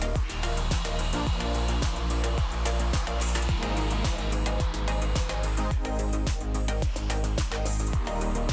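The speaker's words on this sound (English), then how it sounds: "we're gonna apply the sander again to clean off the excess." A power sander whines loudly and steadily while cleaning excess cured glue off repaired cracks and knots in wood, its pitch wavering in a fast repeating pattern with no talk.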